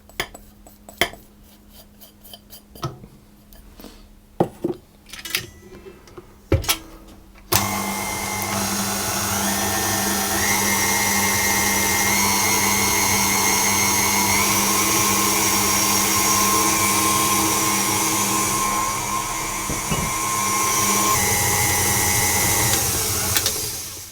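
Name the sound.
stand mixer whisk attachment whisking cake batter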